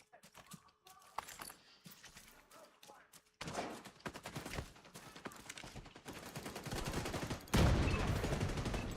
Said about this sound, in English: Dude's using a shotgun to snipe.